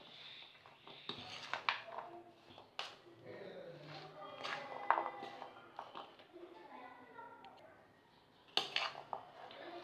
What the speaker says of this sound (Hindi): तो अब इसमें हम इनको सबको अच्छी तरह से कर लिया मिक्स